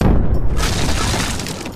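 A deep, rumbling boom swells and then rolls on, a dense blast of low roar that slowly fades without fully dying away.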